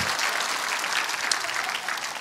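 An audience at a special education lecture gives a professor a standing ovation, with dense, even clapping throughout.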